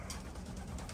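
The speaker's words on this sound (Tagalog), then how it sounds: "yung mga ibon natin nandyan, paaraw sila, excited" Pigeons kept in a wooden loft with a landing board, sunning themselves and excited, give soft low coos beneath steady outdoor background noise, faint and continuous rather than distinct.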